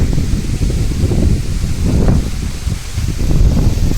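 Wind blows steadily outdoors, with leaves rustling and gusts buffeting the microphone in a loud, continuous roar.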